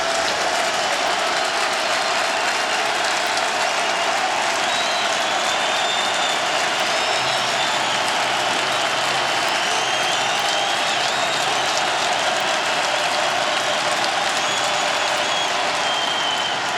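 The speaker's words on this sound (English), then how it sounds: "The crowd not even waiting for third down with a 1st and 25. They're on their feet." Football stadium crowd at Syracuse during a Wake Forest game rises to its feet, a dense, sustained wall of cheering and applause that holds steady at full volume from start to finish.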